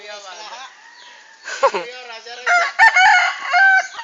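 A rooster crows loudly on a farm with a long, wavering call, with other chickens clucking and voices talking around it.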